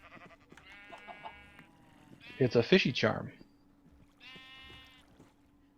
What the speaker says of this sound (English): Yeah, come talk to the pink sheep.